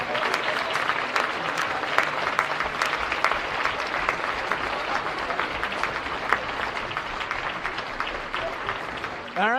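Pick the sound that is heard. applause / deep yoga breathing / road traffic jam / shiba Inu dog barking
applause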